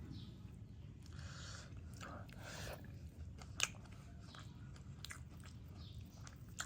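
Someone eating hilsa fish mashed with chili and onion, close, soft chewing and biting with occasional crunches, quiet and intimate, with a few faint voice sounds.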